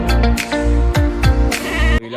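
A goat bleats repeatedly and loudly up close, several wavering nasal calls in quick succession, on a farm where a male goat is kept nearby.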